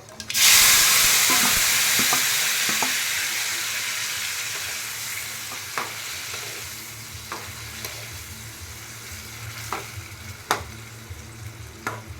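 A loud burst of sizzling as mustard seeds hit hot oil, fading into steady frying with sharp pops and crackles of spluttering seeds scattered throughout.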